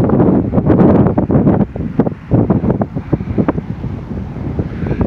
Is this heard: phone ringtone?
no